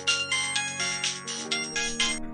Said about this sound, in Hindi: उधर अंजलि आकाश को फिर से फोन करती है।